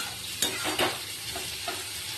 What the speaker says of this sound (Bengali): আগে সয়াবিন আলুটা ভালো করে কষিয়ে নিই